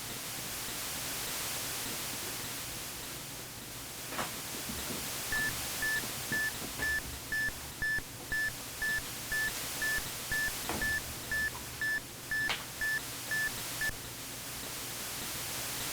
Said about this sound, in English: Just a little beeping noise with some silence.